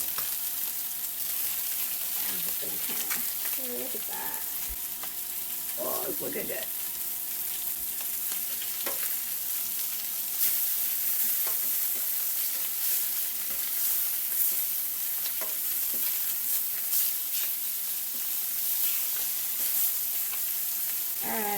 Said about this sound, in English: you just want to make sure you keep stirring this for a little bit before you put the lid on it, so that way it doesn't all stick